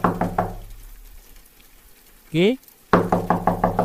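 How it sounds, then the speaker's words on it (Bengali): Rapid knocks rap on a closed door in two close, loud bursts, one at the start and one at the end, with a single short spoken call in the pause between them. "তারপর দরজার গায়ে শব্দ উঠল"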